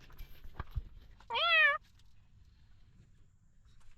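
A cat gives a single clear, rising-falling meow at moderate distance, set against a quiet background with a couple of faint knocks just before it.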